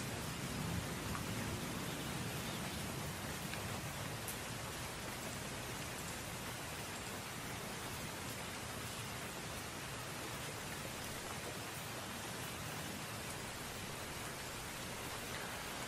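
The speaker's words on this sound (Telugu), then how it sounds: "ఇది హైదరాబాద్ తాజా పరిస్థితి, విపరీతమైనటువంటి వర్షం" Very heavy rain falls in Hyderabad just outside an open door, a constant broad roaring wash without a break, steady and fairly distant-sounding, with no voices over it.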